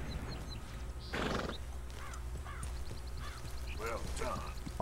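A horse in the video game Red Dead Redemption 2 gives a sharp, close neigh, followed by light clip-clopping hooves and soft snorts at moderate loudness.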